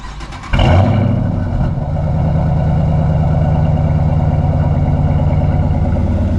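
A 2014 Dodge Charger R/T AWD engine cranks on a warm start and catches, then settles into a loud, steady exhaust rumble that idles on without pause.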